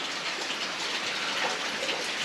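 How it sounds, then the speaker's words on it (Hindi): Steady rain falls on a windy March day, a dense continuous hiss of drops close by with no voices. "बारिश हो रही है"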